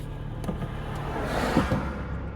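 Heavy holiday-weekend traffic on Route 90 in Ocean City, Maryland rolls past as a continuous low road rumble, with a few nearer cars passing and brief mechanical clicks in the mix.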